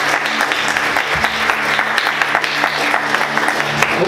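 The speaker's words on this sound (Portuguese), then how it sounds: "Aplauda Jesus bem forte." A church congregation at a Sunday morning service applauds loudly and continuously in a dense wash of clapping, with a low steady hum underneath.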